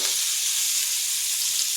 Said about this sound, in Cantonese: 之後放蒜味， 爆香先